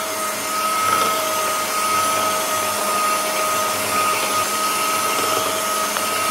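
An electric mixer whirs steadily as it beats powdered sugar into sponge cake batter, a constant motor whine with a thin high tone running throughout, with no talking.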